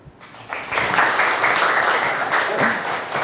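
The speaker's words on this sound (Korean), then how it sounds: "큰 박수로 맞아주십시오." A seated audience at a live Korean talk event gives warm applause, a steady wash of many hands clapping that swells quickly and holds for a few seconds, with no voices over it.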